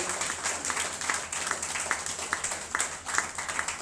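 An audience applauding a newly joined team coordinator at an MI Lifestyle business meeting, with steady, moderately loud clapping from a crowd continuing throughout with no voices over it.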